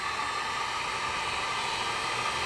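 Steady, even rush of blown air with a broad hiss, constant and close throughout, no voices.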